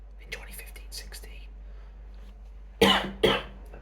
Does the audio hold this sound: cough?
yes